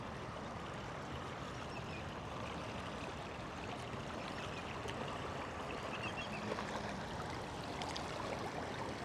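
Water of the LA River flowing along a stretch with a stronger current, a steady, soft rushing and burbling at low volume with no talk.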